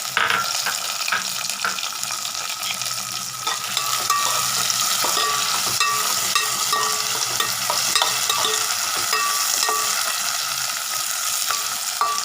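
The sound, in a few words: tomatoes being sautéed in a pan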